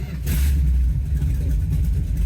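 A 1970 Dodge Challenger R/T clone with a 440 Six Pack V8 pulls away, its deep engine rumbling steadily and close, rising slightly as it gets moving, with a voice speaking over it.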